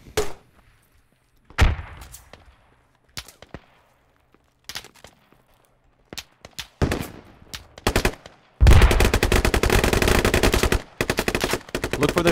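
Machine gun fire in the tactical shooter Squad, first scattered single shots and short bursts with sharp echoing cracks, then a long loud sustained automatic volley that stops briefly and resumes, close by with no voices.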